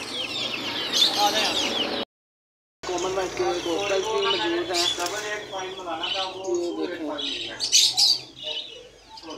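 Two female turkeys, one black and one white, call in a busy bird market amid chirps and coos from other birds, close and fairly loud, with a person talking over much of it and a brief silent gap.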